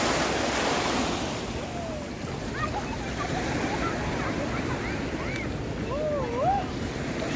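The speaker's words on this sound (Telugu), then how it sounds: "అలలు అయితే సంపుకుంటున్నాయి" Ocean waves break and surge at Padang Padang Beach in Bali, a continuous close wash with wind buffeting the microphone and faint bird-like chirps over it.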